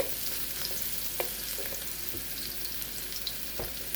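Garlic and ginger sizzle in hot oil for Thai basil shrimp, a continuous close crackling fry with small pops throughout.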